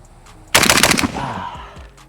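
Three rapid rifle shots from an AK fitted with a 24mm muzzle brake crack out in a tight burst, loud and close, followed by a brief echoing decay across an outdoor range.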